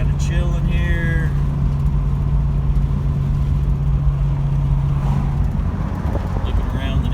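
A 1980 Buick Regal Turbo Sport Coupe with a draw-through turbo rolls through a neighborhood. Its steady mid-pitched engine drone stays loud and close with a low hum throughout, and brief voice-like sounds come early.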